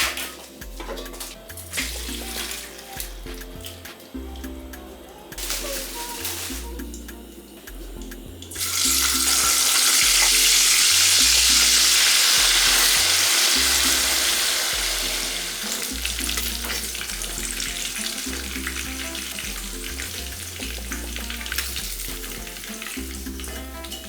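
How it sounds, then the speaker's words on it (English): Fish frying in a pan for a Nigerian vegetable sauce, with a steady sizzle that rises into a loud, bright hiss about a third of the way through and then settles to a continuous fry. Music plays beneath it and no one speaks. "So now let's fry the fish."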